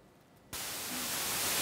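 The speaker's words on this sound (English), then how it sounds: "Yay, we get white noise." White noise generated in a web audio stream cuts in abruptly after a moment of near-silence, then a loud, flat, full-band hiss continues steadily to the end.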